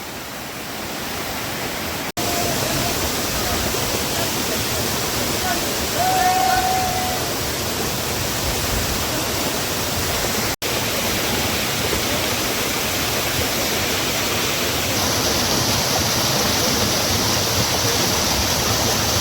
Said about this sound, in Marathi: वरून एकदम कठीण कातरकडे आहेत आणि त्याच्यातून कोसळणारा हा धबधबा